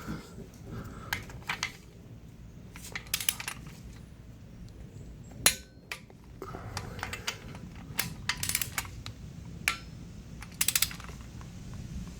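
Torque wrench ratcheting while tightening a bolt to 41 foot-pounds on the timing belt assembly of a 2008 Suzuki Forenza 2.0 L, a series of quiet close metallic clicks and clacks at irregular intervals.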